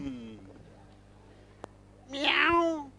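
A cat gives a single meow close by near the end, after a stretch of voice-like murmuring and a sharp click, in a staged devotional drama setting.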